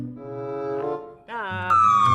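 An ambulance siren wails in a steady tone, then jumps to a higher rising pitch and grows louder toward the end.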